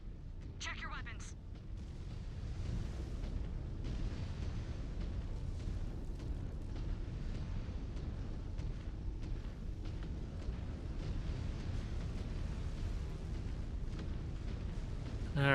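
Artillery strikes in MechWarrior 5: Clans pound as a dense, continuous rumbling roar of explosions and booms, loud and steady throughout with brief sharper bursts near the start.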